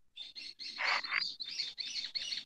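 A small bird chirps nearby in steady, high repeated tweets, a rapid string of bright calls running throughout, with a couple of louder fuller notes in the middle.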